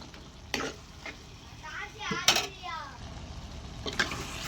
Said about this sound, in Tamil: எல்லாம் சேர்த்து கொஞ்சம் நல்லா வதக்கி விடுவோம்